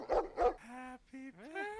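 A dog sound effect used as a podcast segment stinger: two sharp barks followed by drawn-out whining yelps and a rising howl, loud and close.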